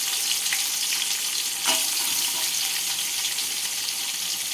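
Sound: onions frying in pan

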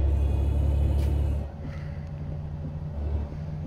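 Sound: Peterbilt 389 truck engine sound mod in American Truck Simulator video game

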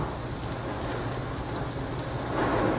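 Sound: heavy rain falling on a house roof

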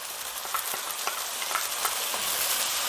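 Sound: wet spice paste frying with golden onions in oil

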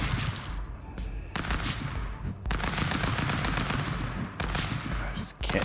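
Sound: gunfire from the video game Stick Fight

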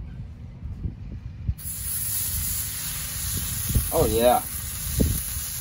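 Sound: bacon sizzling on a griddle on a Weber Kettle grill

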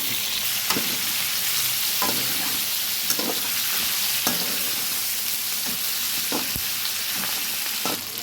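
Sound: chicken frying in a pan

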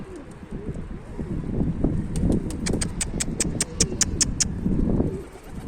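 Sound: pigeons cooing and flying

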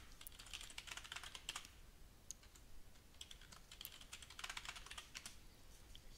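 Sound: typing a password on a computer keyboard

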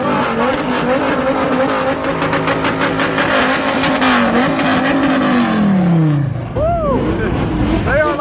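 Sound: Bugatti sports cars driving out

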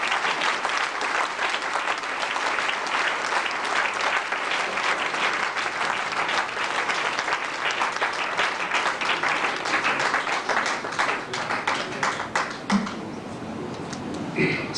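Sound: audience applause welcoming a speaker

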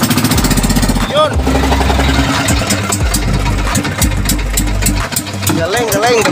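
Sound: boat engine running after launch

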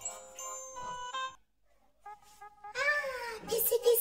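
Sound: cat meowing

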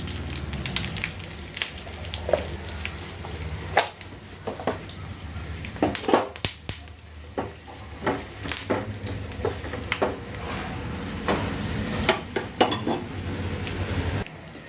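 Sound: mustard seeds and dried red chillies sizzling in tempering

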